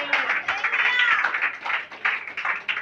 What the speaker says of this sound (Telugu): చప్పట్లు కొడదాం మరి.